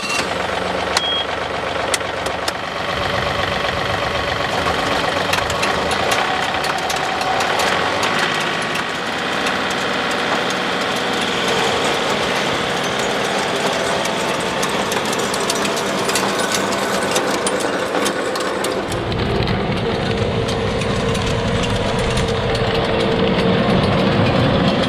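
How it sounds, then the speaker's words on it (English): Tractor-mounted tiller working wet ground on a Christmas tree farm, a steady loud engine drone with churning, clattering rumble throughout, the low end deepening near the end as the load grows. "I'm gonna go ahead and drop the tiller and till as far as I can till it starts to bog down"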